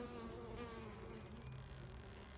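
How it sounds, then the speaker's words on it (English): Honey bees in an opened, lightly smoked hive, a dense continuous buzzing drone that stays close and steady, with no talking. "I smoked the bees a little bit, so they shouldn't be super angry with me."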